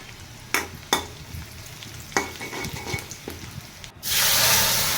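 Rui fish frying with reddened onions in a pan, a close sizzle broken by a few sharp stirring scrapes, then a louder burst of hissing near the end.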